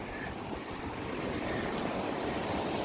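The Youghiogheny River in Ohiopyle State Park rushes steadily, making a broad, continuous wash of flowing water with some wind noise on the microphone.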